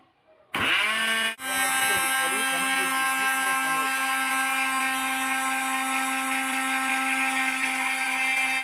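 An electric blender mixing a batter with salt, lemon and iced water starts up abruptly, its motor rising in pitch, then runs at a loud, steady whirring roar close by.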